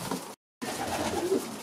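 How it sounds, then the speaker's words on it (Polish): Homing pigeons in a breeder's loft give a low, muffled cooing, close and moderately loud, broken by a brief silent gap before the murmuring resumes. "Tutaj masz troszeczkę pocztowe gołębi, tak? W tym gołębniku."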